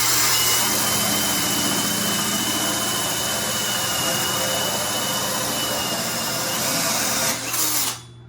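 A power drill fitted with a concrete and tile bit bores out holes, a loud, steady high-pitched whine that runs without a break for about seven seconds before it winds down and stops.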